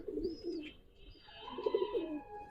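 Pigeons at a Bangladeshi pigeon farm, Giribaz and coloured breeds, give soft repeated coos in two bursts, near and moderately loud, with faint higher chirps in between.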